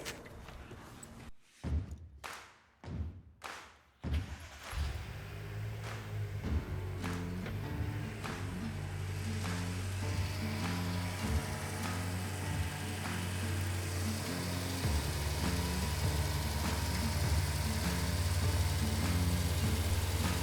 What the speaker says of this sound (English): Now I have to start this car.